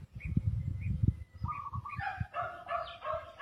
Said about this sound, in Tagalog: Ayun, aso na naman.